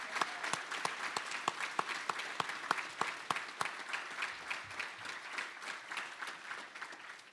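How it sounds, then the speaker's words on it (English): Applause from an award ceremony audience, a steady patter of many hands clapping at close range with sharp individual claps standing out, holding for several seconds before thinning slightly at the end. "Please join me in one final round of applause for this year's award recipients."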